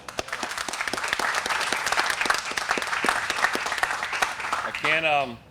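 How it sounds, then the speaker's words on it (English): An audience applauds a hurricane hunter crew at a National Hurricane Center hurricane awareness tour event, with dense, sustained clapping filling the room before fading as a voice starts to speak near the end. "A round of applause, so thank them."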